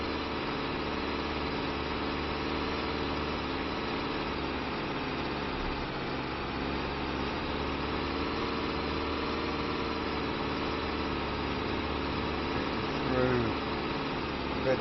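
Ford TW35 tractor engine pulling a Rabe plough in Farming Simulator 25, a steady low droning rumble that holds an even pitch throughout with no pauses, broken only by a faint brief rattle near the end.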